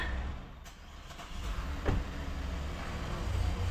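A 2017 Hyundai Grandeur engine idling at about 800 rpm, a steady low rumbling hum close by with a faint click or two and no talking.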